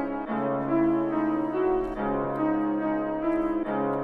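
Dark UK drill piano melody with a counter melody layered on top, sustained piano notes ringing together with a low bass hit under them, several phrases played clearly with no voices.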